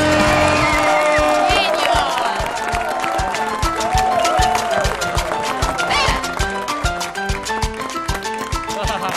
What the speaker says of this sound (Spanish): fuerte el aplauso de vuelta a Rafael Gacales.